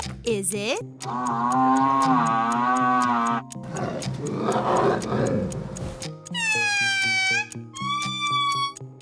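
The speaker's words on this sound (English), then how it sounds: "You just heard from the only lemurs that sing." Indri, one of the largest lemurs, giving its singing call: loud, wailing harmonic notes that swoop and hold, with a noisy roaring middle stretch and higher clear tones at the end, filling the whole clip. A brief spoken question opens it.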